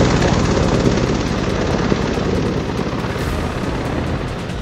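Chinook and Apache military helicopters operating near the Line of Actual Control in Ladakh, heard as a loud, steady, rumbling rotor and engine roar that fills the whole clip with no speech.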